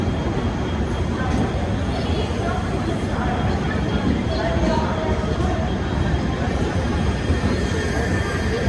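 The Pooja Express rumbles steadily as it slows for a red signal, a dense continuous roar of wheels on rail with faint squeals, heard nearby while someone talks over it throughout.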